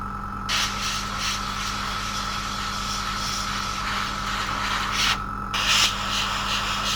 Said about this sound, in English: I sand and I sand and I sand and I still see the joint line even though I filled it.